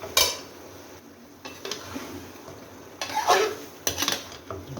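Cauliflower sautéing in a pot for a fish curry, a spatula clanking and scraping against the metal in uneven bursts separated by short pauses, with a light sizzle beneath and no talk.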